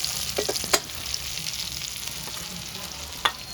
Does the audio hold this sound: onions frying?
yes